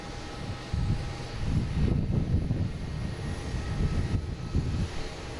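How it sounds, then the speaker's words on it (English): Jet airliners, including Airbus A330-900s, at Boston Logan airport, heard as a steady, distant engine roar that swells slightly and then holds. "Both those planes are A330-900s."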